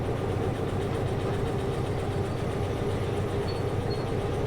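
A steady, loud low rumble of a train locomotive engine running continuously in the video game Derail Valley, with no talking.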